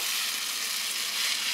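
Steady, loud sizzling of rosemary frying in hot oil, a continuous crackling hiss with no talking.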